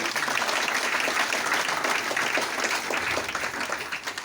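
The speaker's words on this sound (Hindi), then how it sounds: "जोरदार ताली गुरु जी को।" A crowd applauds loudly and steadily, dense clapping filling the whole stretch before tapering slightly at the end.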